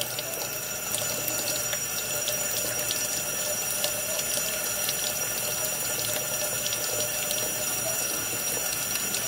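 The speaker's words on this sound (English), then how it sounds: "Fill that up with hot water." Hot water runs steadily into a container while tea is made with marigolds and lemon balm, a constant close splashing rush with faint clicking ticks above it.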